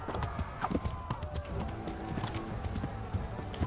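Horse hooves clip-clop steadily through the medieval game world of Kingdom Come: Deliverance, a quick rhythmic patter of steps over a low ambient bed, fairly close and continuous with no one talking.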